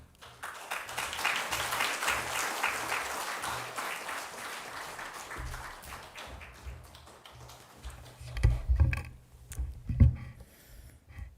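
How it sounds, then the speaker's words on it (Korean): A church congregation gives a big round of applause to welcome a guest professor at a Sunday service, dense clapping filling the room for several seconds before thinning out, followed by scattered thumps and handling noises. "나오실 때 우리 큰 박수로 환영해 주시기 바랍니다"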